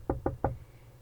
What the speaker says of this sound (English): followed by a light rap on the door.